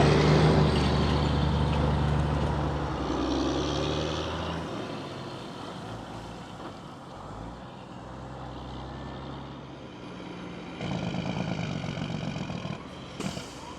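A truck hauling hay bales pulls away from a scale onto the highway. A loud diesel drone sags and rises as it works through the gears, with engine pitch changing between shifts. The cab sound is steady and close.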